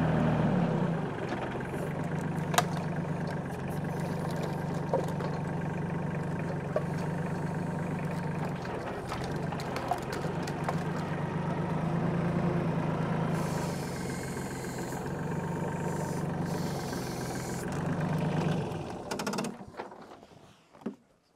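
A tractor engine idles steadily beside a massive pile of firewood logs being stacked, a low continuous rumble with a few small knocks and clanks, fading out at the end.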